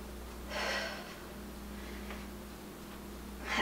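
Heavy breathing during a back and bicep workout with leg extensions, heard as two close, fairly faint exhales, one early and one at the very end, over a low steady background hum.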